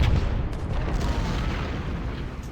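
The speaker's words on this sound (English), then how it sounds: "We've still got quite the artillery duel going on" Artillery fire in the Ultimate General: Civil War battle game, a dense, continuous rumble of cannon booms blending into a heavy low roar with no clear gaps between shots.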